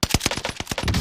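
Rapid automatic gunfire in Call of Duty: Warzone, a loud burst of close, evenly spaced shots cracking in quick succession across the whole second with no talk.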